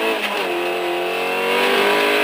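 A rally car at the Imatra rally on a village road revs hard at full throttle, its engine note loud and close with a rising harmonic pitch as it accelerates. No one is speaking.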